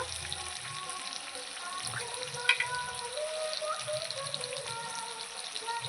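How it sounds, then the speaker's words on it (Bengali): Potatoes and onions fry together in a pan with salt, giving a steady low sizzle and crackle that runs throughout, faint and even, with occasional small pops and a quiet voice speaking over it. "আলু পেঁয়াজ একসঙ্গে ভেজে নেব ভালো করে লবণ দেব"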